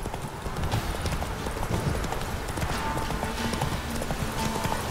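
Horse hooves clip-clop steadily in The Witcher 3 during a horse race, a continuous rhythmic trotting under a busy game soundscape, with an occasional faint whinny.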